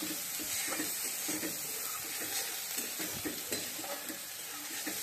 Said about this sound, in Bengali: এখানে আমি আলুর দম রান্না করার জন্য আদা, জিরে, টমেটো, মরিচের গুঁড়ো, হলুদ গুঁড়ো ভালো করে কষিয়ে নিচ্ছি।